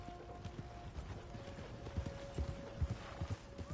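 A horse's hooves clip-clop in a video game, several soft uneven hoof knocks at a walking pace over faint ambient hum, fairly quiet and somewhat distant.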